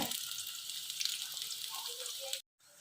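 Sliced onion frying in hot oil in a pan gives off a soft, steady sizzle that runs on quietly before cutting out briefly near the end.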